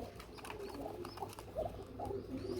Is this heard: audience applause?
no